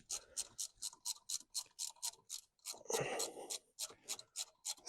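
Ratchet tightening bolts while a shock absorber is removed, giving a steady run of rapid, close clicks with a brief rustling scrape midway.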